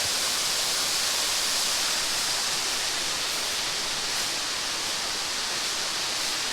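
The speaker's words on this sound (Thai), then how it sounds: "ก็คือน้ำตก ชั้นสุดท้าย" Rushing water pours over the last tier of a waterfall, a steady, dense roar that stays loud and unbroken throughout.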